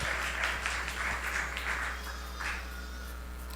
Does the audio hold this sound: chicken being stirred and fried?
no